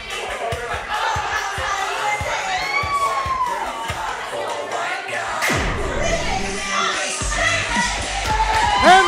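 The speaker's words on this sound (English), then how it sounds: "Crowd goes insane" A wrestling crowd at an indoor independent show cheers and shouts continuously, with children's yells and whistles rising above the roar as a wrestler makes his entrance.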